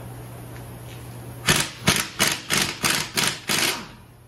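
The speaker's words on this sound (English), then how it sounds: "Grab our 18 millimeter wrench." An 18 millimeter wrench works loose a rusty nut on a bolt, giving seven evenly spaced sharp metallic ratcheting clicks close up over a steady low hum, with no talk.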